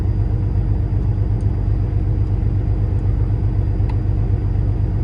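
A Kenworth W990 truck with an MX13 engine of 510 hp runs close by in a steady, loud diesel idle rumble that holds for the whole stretch, with no clear rise in revs. No talk is heard.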